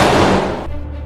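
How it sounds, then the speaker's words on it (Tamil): Firecrackers going off during Diwali celebrations, a dense, loud run of overlapping bangs and crackle that dominates the first half before thinning into quieter background noise. "பட்டாசு வெடிக்க முடியுமா தெரியலையே"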